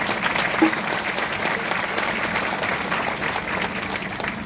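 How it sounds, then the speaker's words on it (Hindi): Applause from a seminar audience, a dense, steady crowd of hands clapping continuously throughout, moderately loud with no pauses. "तालियां होनी चाहिए सबके नाम।"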